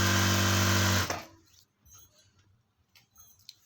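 A sewing machine stitches a small saree piece in one fast, loud, steady whirring run that stops abruptly after about a second, followed by faint handling clicks.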